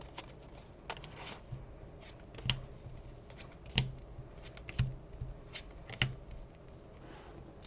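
Cards shuffled in a Pokemon card game as a hand goes back into the deck: a steady run of soft papery riffles and flicks, with several sharper snaps standing out. Close and quiet, with no talking.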